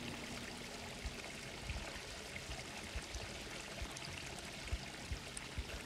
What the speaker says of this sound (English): did you hear just the little trickle of water going down there?